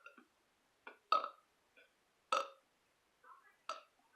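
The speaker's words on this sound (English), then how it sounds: "they're just lame burps" A person lets out a series of short, small burps after a meal of fried rice noodles, about six separate belches spaced irregularly against near silence.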